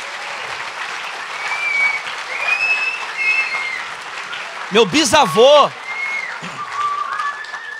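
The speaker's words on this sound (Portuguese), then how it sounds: "Aplauda o Senhor Jesus aí, meu irmão" A crowd at a church service applauds steadily throughout, loud and continuous, while a voice speaks over it and someone whoops briefly in the middle.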